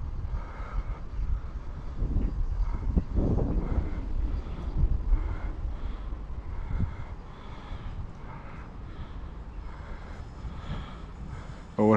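A radio-controlled UMX A-10 Thunderbolt model jet flies in strong gusty wind, its electric motor whining steadily under heavy wind buffeting on the microphone, with no voices.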